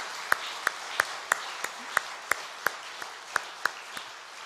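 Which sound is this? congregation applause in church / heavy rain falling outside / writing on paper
congregation applause in church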